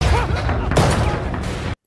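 A loud, rapid volley of gunfire crackling close by, with voices mixed in, then cutting off abruptly.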